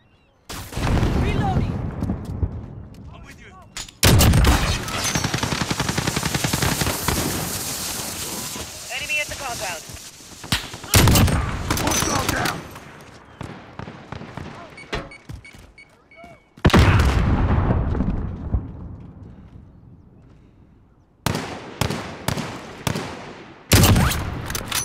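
Heavy gunfire in Call of Duty: Modern Warfare, with loud sustained bursts and sharp shots close by, a blaring battle din broken by short lulls, while game voices shout over it.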